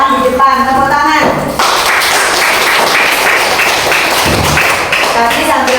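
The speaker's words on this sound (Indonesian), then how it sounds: "Tepuk tangan." A sixth-grade class bursts into clapping after a teacher's brief spoken prompt, a loud, busy burst of many hands that keeps going steadily to the end.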